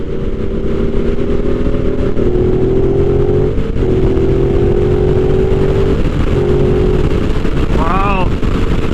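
A Ducati Multistrada motorcycle engine drones steadily while riding, its pitch climbing gradually under heavy wind rush, with a brief whining warble near the end.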